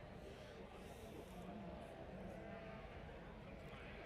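Sheep being prepped for judging at the Great Yorkshire Show bleat under a dense, noisy crowd murmur, their calls faint and intermittent in the background.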